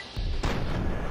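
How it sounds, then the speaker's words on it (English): An explosion goes off in Fallout 3's Operation Anchorage, a heavy booming blast that gives way to a loud, sustained rumble. "Whoa, more explosions."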